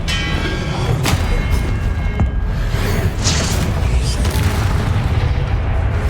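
Confringo explosive spell in Hogwarts Legacy combat, repeated booming blasts amid a busy, continuous wash of game effects, with some talking faintly over the action.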